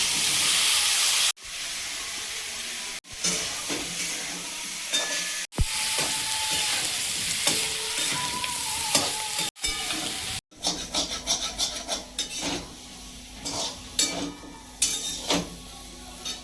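Curry with black cumin, turmeric and potato fries in a pan, a bright hiss and sizzle with stirring and scraping, broken by several abrupt cuts and growing more crackly toward the end.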